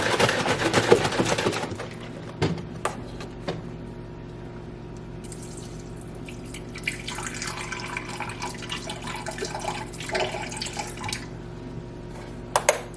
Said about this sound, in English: I think what I'm gonna do is do a little bit of almond milk.